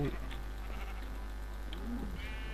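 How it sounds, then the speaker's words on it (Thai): Minecraft sheep bleats in a survival game, a couple of short wavering calls near the start and again around two seconds, over a steady low hum and game background. "เฮ้ยเราต้องฆ่าแกะก่อนดิ"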